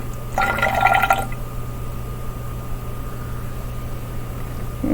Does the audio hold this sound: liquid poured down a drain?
yes